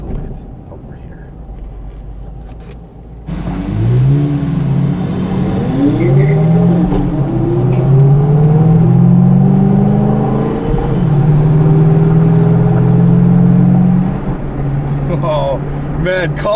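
A McLaren sports car revs hard and accelerates past at a car meet, the engine note rising and holding loud for several seconds before easing off, with people talking nearby.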